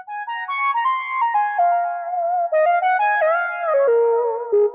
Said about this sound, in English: This is called the Wind Synth.